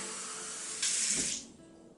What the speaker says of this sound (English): So I just fill it up with water